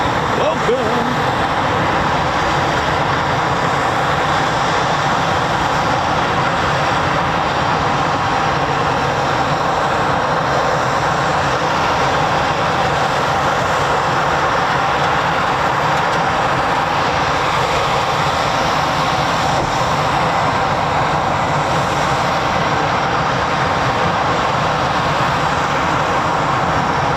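Eurofighter Typhoon FGR4 jet at RAF Coningsby, a loud, sustained broadband engine roar that stays steady and unbroken throughout, heard from an outdoor airfield.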